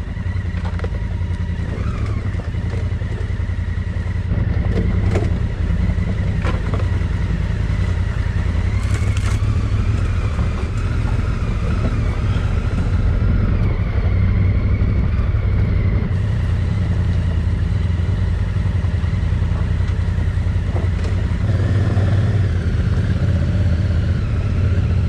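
A heavy 300 kg adventure enduro motorcycle rides over mixed sand and larger stones in the Pyrenees, its engine droning steadily and loudly throughout with no talk.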